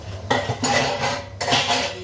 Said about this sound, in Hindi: टोकरे में मैंने बर्तन भी लगाने हो, फटाफट से लगा देती हूँ बर्तन